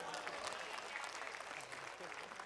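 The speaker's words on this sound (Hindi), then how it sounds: "एक बार इनके लिए तालियां बजा दीजिए" Audience applause at a live Hindi-Urdu ghazal and poetry gathering, steady dense clapping filling the whole stretch with crowd noise, fairly distant and even in loudness.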